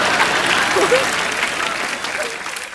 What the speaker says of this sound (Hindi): ओए तालियां भी।